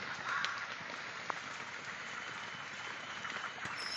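Dried red chillies and bay leaves sizzle in hot oil in a kadai for a vegetarian banana flower curry, giving a steady, even frying hiss throughout with a faint clink at the end.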